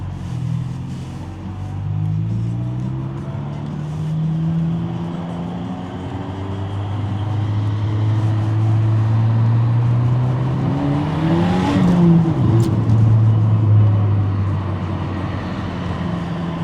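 A car driving along a road, with a steady low engine hum and road rumble that swells slightly as it goes, continuous and fairly close with no one talking.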